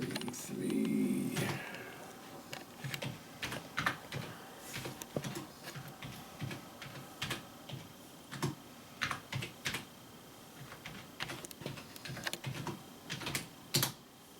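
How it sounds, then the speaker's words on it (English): Typing on a computer keyboard, entering an address: steady bursts of close key clicks with short pauses, alone without talk. "we just need to type in this address"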